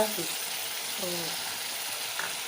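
Dried loitta fish paste with ginger, garlic, onion and chilli frying in oil, a soft even hiss of sizzling, with a faint voice murmuring briefly at moments.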